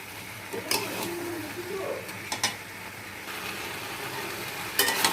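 Crab and green jackfruit curry being stirred and fried in a pan, with a steady broadband sizzle and occasional scraping clatters of the utensil against the pan, while a voice talks faintly in the background.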